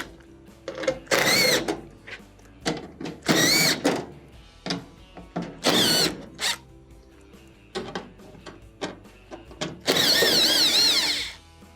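A power drill backs 1/4-inch screws out of the back plate of a GE dryer, whirring in a series of short, close bursts with quieter handling noise between them and one longer, higher-pitched run near the end.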